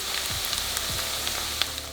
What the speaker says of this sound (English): Sauté until the shallots are slightly translucent and the mixture is fragrant